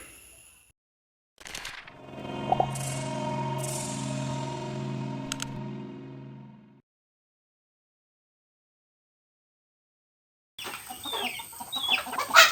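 Chickens cluck and call loudly for several seconds, then silence, followed by a burst of rustling and more bird noise at the end.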